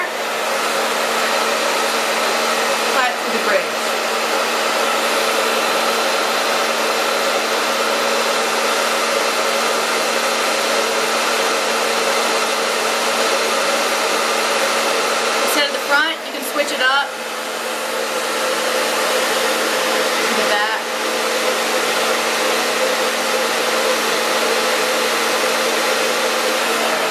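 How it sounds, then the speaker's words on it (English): A hair dryer blows hot air steadily onto the bridge of a pair of sunglasses, a loud continuous whooshing roar with brief dips and shuffles as the frame is moved, no voices. "I'm going to go ahead and turn my hairdryer, apply it to the bridge"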